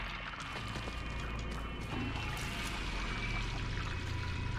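A water valve in the Texas Chain Saw Massacre video game pours water steadily, a continuous rushing flow heard quietly and alone for several seconds.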